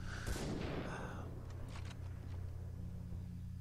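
Far Cry 3 gunfire in a jungle firefight, a burst of rough blasts near the start followed by a few fainter shots over a low rumbling engine-like drone, moderately loud.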